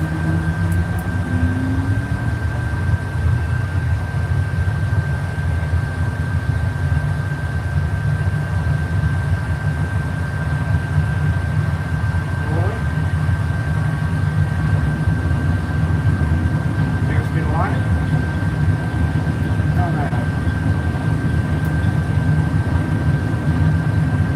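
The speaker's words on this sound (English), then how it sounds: "Takeoff." Airliner on its takeoff roll, a steady loud low engine roar and rumble running throughout with a constant whine above, no voices.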